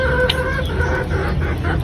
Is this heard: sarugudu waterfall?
no